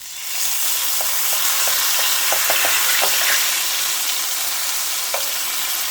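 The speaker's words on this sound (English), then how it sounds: "we're going to add our turnovers into the pan" Pastry turnovers dropped into hot oil in a pan, bursting into a loud, dense, steady frying hiss up close with a few faint crackles and pops, no talking.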